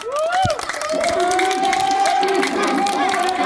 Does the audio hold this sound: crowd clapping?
yes